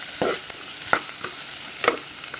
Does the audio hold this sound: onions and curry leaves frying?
yes